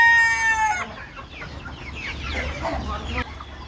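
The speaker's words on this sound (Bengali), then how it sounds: "এই দেখেন মুরগিগুলো ছাড়ছে" Chickens cluck and squawk busily as they are let out of their shelter on a rainy day, a lively overlapping flock chorus that follows a brief burst of louder noise at the very start.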